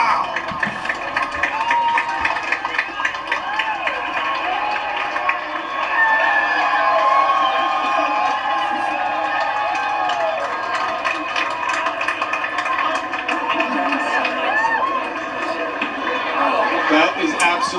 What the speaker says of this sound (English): As it passed totality, this crowd just erupted.